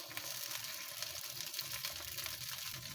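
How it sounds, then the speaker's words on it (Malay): Tamarind water pours into a cooking pot for a fish dish, a faint continuous splashing and hissing liquid sound over about three seconds, with no talk. "Masukkan pula air asam jawa yang dah dibancuh tadi tu ya."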